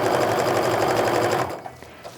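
A sewing machine runs steadily while stitching the seam of a snowflake mug rug, a loud continuous whir that stops after about a second and a half, leaving only a few faint clicks.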